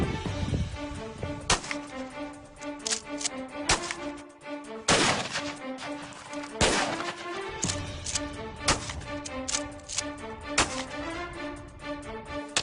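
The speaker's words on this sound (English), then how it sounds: "I just had to take a couple shots myself at the melons." Repeated sharp gunshots, some from a .338 Lapua rifle, fired at melons set on sticks outdoors. They crack out loudly at irregular intervals over a steady background of tonal music.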